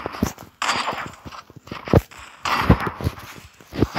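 Gunshots from an online shooter video game, sharp single reports spaced irregularly across the stretch, some louder and close, over a busy game background of rustling and footstep-like noise.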